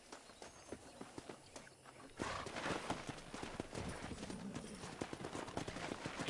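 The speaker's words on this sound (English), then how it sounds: "Let's see if we can't wrangle some horses." Horses clip-clop at a trot in the Red Dead Redemption western video game, with quiet hoofbeats at first and then a louder, busier run of overlapping hooves, plus occasional whinnies, against outdoor ambience.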